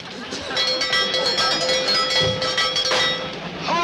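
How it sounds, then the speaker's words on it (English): A train rolls along the tracks with a steady rumble and rhythmic clatter, while a tonal whistle-like line runs through the middle and people talk over it. "You're gonna have to stop this train, Floyd"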